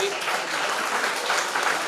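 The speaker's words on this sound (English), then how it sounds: "Let's give a huge round of applause for the winners." Audience applause for project expo winners at a university valedictory programme, a steady dense wash of clapping throughout, moderately loud and continuous.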